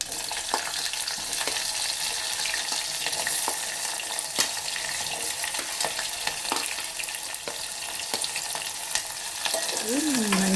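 Green chillies and onions fry in hot tempering oil while being stirred, a steady close sizzle with scattered scraping clicks of the spoon against the pan, no voices.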